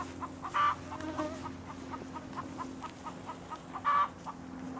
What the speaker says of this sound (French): Ah, une poule qui a pondu son œuf.